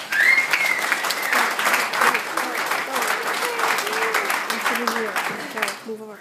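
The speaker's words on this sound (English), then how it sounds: "So can we get a round of applause for that?" An audience at a party event breaks into loud, sustained applause, with a voice talking over the clapping as it carries on and then fades near the end.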